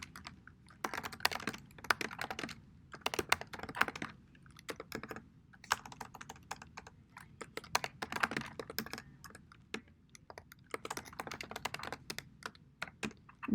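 Steady typing on a computer keyboard, with dense bursts of close, crisp key clicks in an uneven rhythm and no talking.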